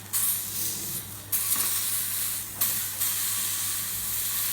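A pepper steak sears on the sides in a hot pan with a loud, steady hiss, rising in bursts as the meat is pressed or shifted, close and constant with no talking.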